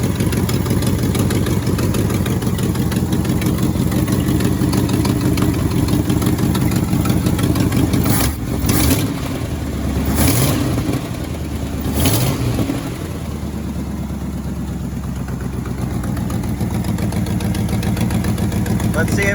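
A 1967 Ford F100 pickup engine idling steadily and loudly up close, its even rumble briefly dipping and surging with a few blips partway through.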